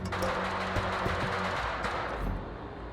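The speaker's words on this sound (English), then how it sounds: "Is that gunfire over there?" Gunfire in the video game STALKER 2: a short series of distant, rhythmic shots cracks over a steady background hiss and fades out.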